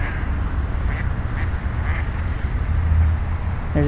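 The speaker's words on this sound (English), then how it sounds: "Oh, there's baby ducks." Baby ducks quack in repeated short calls at a shallow pond in Dobson Ranch Park, beside a busy road, with a steady low rumble of passing traffic underneath.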